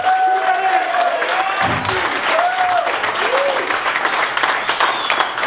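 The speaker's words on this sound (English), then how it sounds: "please, everyone in here, give a big round of applause for Mr. Joe Stockton" Applause from an audience in a hall for Joe Stockton, dense clapping that fills the whole stretch, with faint voices over it.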